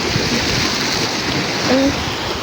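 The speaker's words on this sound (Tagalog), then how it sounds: "lakas pa rin kasi ng alon" Strong sea waves break on a beach in Batangas, producing a continuous rushing wash of surf with a faint voice briefly audible.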